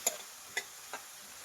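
Lima beans roasting in a pan of tempering oil, three quiet clicks from a spoon stirring them over a faint background sizzle, close and with no speech.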